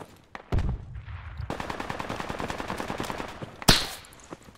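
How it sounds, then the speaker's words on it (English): Rapid automatic gunfire in the military shooter game Project Reality, a sustained rattling burst of closely spaced shots after a few isolated cracks, ending with one louder sharp report. "he's opening fire."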